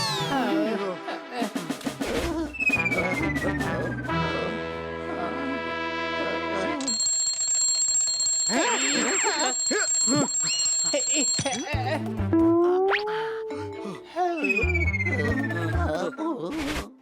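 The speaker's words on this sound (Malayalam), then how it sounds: "ആ ക്ലോക്കിൽ 12 മണിയുടെ അലാറം വെച്ചിരിക്കുന്നത്." An electronic alarm rings in a sustained, high-pitched tone amid busy cartoon-like sound effects and bright musical jingles.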